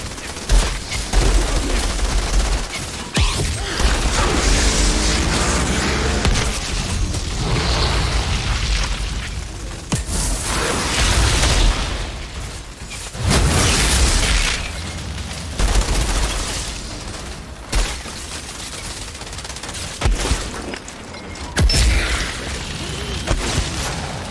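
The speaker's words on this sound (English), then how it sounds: "how did I just die from small arms fire?" Gunfire and explosions fill a firefight in the video game Outriders, a loud continuous barrage of shots and booms with bursts of automatic fire throughout.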